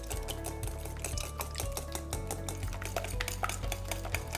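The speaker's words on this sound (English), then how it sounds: "Take our whisk and we're going to blend this up." A whisk clicks and taps rapidly against a bowl while blending pancake batter ingredients of eggs, sweetener and a pinch of salt, a brisk irregular rattle of metal on the bowl, close and moderately quiet.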